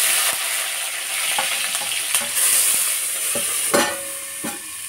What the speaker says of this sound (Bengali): মনে হয় পিঁয়াজ দিয়ে ভাজা হচ্ছে